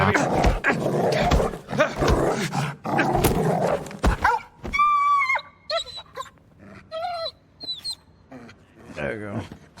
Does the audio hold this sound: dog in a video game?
yes